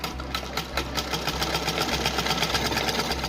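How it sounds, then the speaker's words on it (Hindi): A sewing machine stitches fabric for a small polka dot deity dress, running continuously with an even, rapid mechanical pulse, close and steady, with no one speaking. "देखिए, हमने यहाँ सिलाई लगा ली है।"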